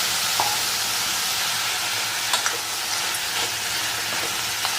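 Broad beans tempered with spice powder sizzle in hot oil, a dense continuous hiss with a few faint clicks from stirring, close and steady with no talking.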